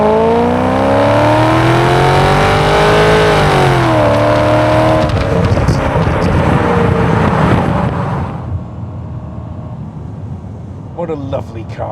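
A 1996 Aston Martin V8 coupé engine revving loudly close by, its pitch climbing and dipping through the gears, then dropping to a quieter hum near the end.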